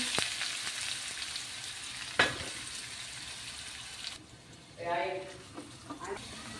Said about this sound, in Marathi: कांदा हा आपल्याला ब्राऊन रंगाचा होईपर्यंत, हलकासा कलर बदलेपर्यंत व्यवस्थित परतून घ्यायचा आहे